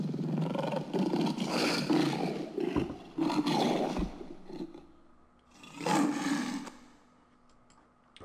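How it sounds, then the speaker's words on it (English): Deep, rumbling lion roars rise and fall in several long bursts, loud and close, with a faint ticking in the background. "which was a bit of a lion kind of sound"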